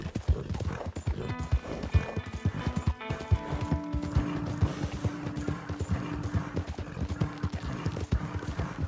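Horse hooves clip-clop at a fast, steady gallop in the Red Dead Redemption 2 game world, a rapid rhythmic pounding that runs the whole stretch, loud and close, with faint tonal game sounds layered beneath.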